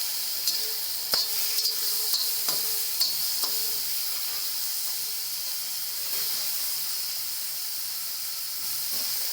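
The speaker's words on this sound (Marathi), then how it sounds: "आपण आता ह्याचा लोखंडी तव्यामध्येच पेचा ठेचून घेणार आहोत" Roasted tomatoes and green chilies crushed right in an iron tava for a spicy thecha, scattered dull knocks and scrapes sounding over a steady background hiss, no voices.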